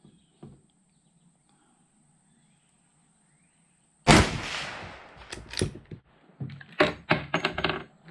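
A Mossberg Patriot rifle in 350 Legend fires one sharp, loud shot outdoors after a quiet stretch, followed by ringing echo and a run of rattling, clattering knocks.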